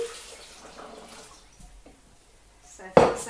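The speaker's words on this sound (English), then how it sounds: "So almonds go in, and then we pour water in." Water is poured into a blender already holding almonds for homemade almond milk: a faint, steady trickle, then a sudden louder splash near the end.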